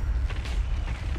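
A bomb explodes in the online shooter Spectre Divide, a brief dense low rumble with mechanical creaking on top, loud and close, with no voices.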